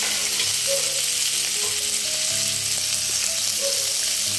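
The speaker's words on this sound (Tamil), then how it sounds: "தக்காளி, கேப்சிகம், அப்புறம் வந்து சிக்கன் பொடி, இதை 3ஐயும் நல்லா வதக்கிக்கிறேன்." Tomato, capsicum and chicken powder sautéed in a pan for egg fried rice, a loud, continuous close sizzle with a soft scrape of stirring and no talking.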